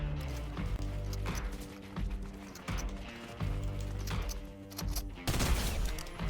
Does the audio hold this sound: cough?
no